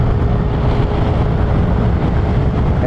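A 2020 Vespa GTS 300 Super scooter accelerating to overtake, a steady loud engine drone mixed with heavy wind and road rumble, no clear rise in pitch, no voices.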